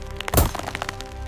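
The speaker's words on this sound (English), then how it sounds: "Persians on the battlements heard the dull thud of wood on wood" A single heavy, dull thud as axes strike wooden defences in an ancient battle, a sharp cracking impact standing alone amid faint background noise.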